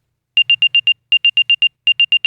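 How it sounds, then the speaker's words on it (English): Three quick bursts of sharp, high electronic beeps from an Apple AirTag tracking alert, five or four chirps each, evenly spaced with short pauses between groups. "because if an unknown AirTag is following you, it's going to make a beep"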